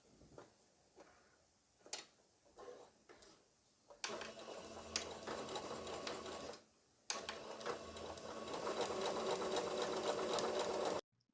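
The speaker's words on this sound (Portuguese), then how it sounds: "agora você vai costurar daqui até essa outra marcação aqui embaixo" A sewing machine stitches fabric in a close, steady whir, running in two long bursts separated by a short pause after a few handling clicks.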